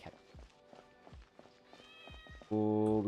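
A cat in the video game Genshin Impact gives a short meow after a run of quick light footsteps, with a loud sustained tone starting near the end and no talk.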